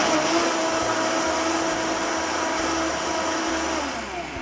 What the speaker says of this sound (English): we're going to go ahead and blend that up into a creamy mixture